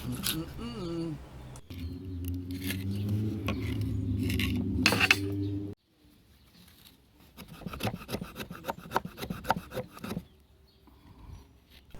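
A Mora knife with a 90-degree spine carving shavings from fatwood, rough scraping strokes in irregular bursts, close up, partly mixed with someone talking.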